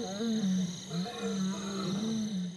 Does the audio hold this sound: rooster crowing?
no